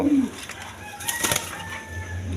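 Lahori and Shiraji pigeons kept for sale make a few short, moderately close calls and a brief flutter over low background noise.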